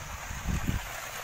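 Running water flows steadily through Ambacan Cold Spring Pool in Katmon, a broad rushing wash with a couple of low splashing swells midway.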